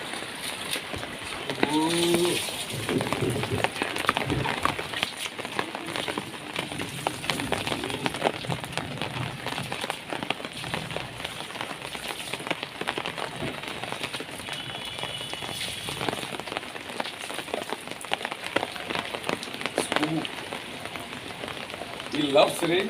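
Steady rain falls on a surface on a rainy day, an even hiss of drops that carries on through the whole stretch, with a few faint voices now and then.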